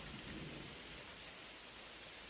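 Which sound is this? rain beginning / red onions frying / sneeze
rain beginning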